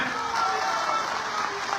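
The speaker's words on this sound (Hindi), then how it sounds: "इसलिए जोरदार तालियों से स्वागत करें" A crowd at a public political gathering applauds in a dense, even roar of clapping, with faint voices mixed in.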